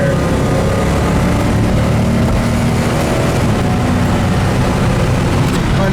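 A 1970 Plymouth GTX under hard acceleration, its engine a loud, continuous low roar that stays dense and unbroken, with wind and road noise mixed in from inside the car.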